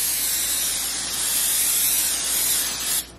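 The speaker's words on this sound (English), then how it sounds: "Now we are just going to grease our baking sheet." Cooking spray hissing onto a baking sheet in one continuous, close spray lasting about three seconds before cutting off abruptly.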